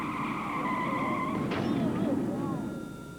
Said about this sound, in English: A stolen Corvette crashes in Arizona.